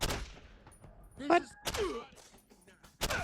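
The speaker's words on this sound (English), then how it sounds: "I don't even know where I got shot from." Gunfire in a first-person shooter video game, a few sharp bursts scattered through the clip with a loud crack near the middle and another at the end, mixed with game effects while a player speaks briefly.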